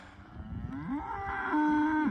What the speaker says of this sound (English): We're getting a pretty good bit of cows put together here.